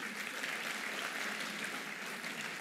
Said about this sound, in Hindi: कृपया तालियों से इनका अभिनंदन करें।